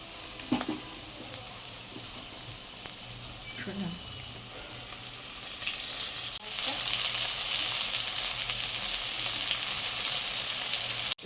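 Onion frying in oil in a pan with garlic, chili and tomato paste added, a steady close sizzle with occasional stirring knocks, the hiss swelling louder partway through as the paste hits the pan.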